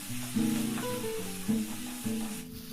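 Tomatoes, garlic and shallots fry in a pan with a steady close sizzle, while a sustained tonal hum runs underneath.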